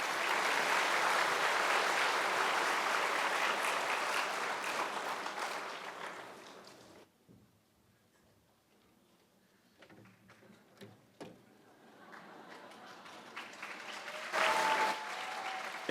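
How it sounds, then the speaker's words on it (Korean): Audience applause at a winter camp concert fills the first seven seconds with dense, steady clapping, then fades to near silence with a few scattered claps before a fresh burst of applause swells near the end. "큰 박수로 맞이해 주십시오"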